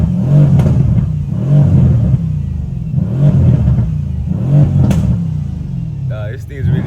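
Inside the cabin of a Mercedes C63S with its mufflers cut off, the engine booms loudly through repeated rhythmic accelerations and gear changes, with a person briefly talking near the end.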